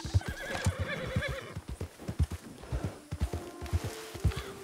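A horse in the Red Dead Online video game whinnies and snorts while its hooves clip-clop in a steady walking rhythm, close and clear with no talk over it.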